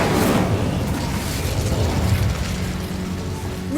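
The Incendio fire spell in Hogwarts Legacy, a loud roaring, crackling burst of flame that swells at the start and rumbles on for several seconds before fading slightly, with a faint rising whoosh at the end.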